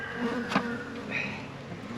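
A package of honey bees being let out into a hive, a steady insect buzzing that continues throughout at close range, with a brief louder knock or rustle partway through.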